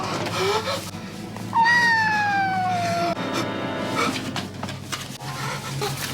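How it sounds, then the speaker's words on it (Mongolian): A cat meows in the horror film Ju-on: The Curse 2, a loud drawn-out wailing cry sliding downward over about a second and a half, set against a dim, rumbling background with scattered knocks. "өнөө муурны мяавлах дуу сонсогдсон"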